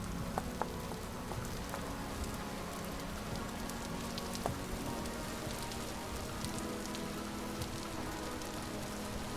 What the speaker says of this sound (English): And it's raining, great.